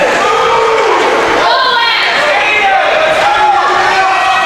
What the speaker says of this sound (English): We can hear a cheer from a goalie Parent in the background.